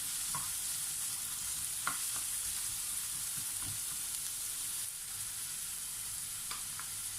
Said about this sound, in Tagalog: So, gisahin muna natin ang ating sibuyas for 30 seconds.